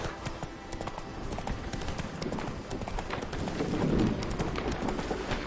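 A horse gallops in The Witcher 3 video game, its rapid hoofbeats drumming in a fast, busy rhythm with a rising rumble, near and continuous.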